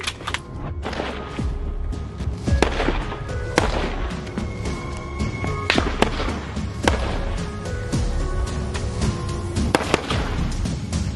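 Assault rifles fire at a military training firing line, a series of sharp, loud reports spaced irregularly, some close and some farther off, with no voices.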